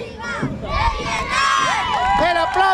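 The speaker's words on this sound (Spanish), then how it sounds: "El aplauso del público para esta escuela" A crowd of onlookers at a September school parade cheers and shouts, with children's high-pitched yells rising over a steady, close crowd roar.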